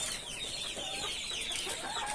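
Sick fancy chickens on a farm clucking softly amid a constant, dense background of mixed bird and barnyard noise, with no voices.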